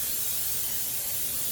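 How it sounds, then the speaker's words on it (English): Cooking spray hissing from an aerosol can onto a muffin tin, a steady close spray lasting the whole moment without a break. "we are going to spray our muffin tin"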